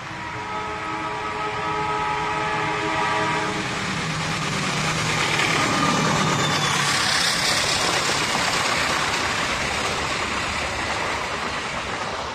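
A short special freight train of two ballast wagons on an Indonesian line between Jember and Sidotopo passes close by, an engine drone giving way to a broad, loud rolling rumble and clatter that swells and fades.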